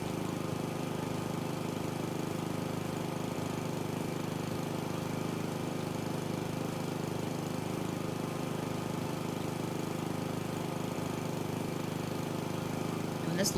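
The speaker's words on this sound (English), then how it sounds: "Hear that, lawnmower devs?" A lawn mower engine drones in the House Flipper 2 video game, a steady low mechanical hum running unchanged throughout at a fairly quiet level.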